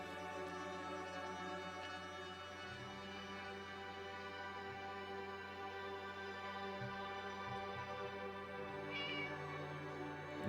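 A cat in the video game HOME meows softly a few times over a steady droning musical background, the calls faint and brief, with no talking.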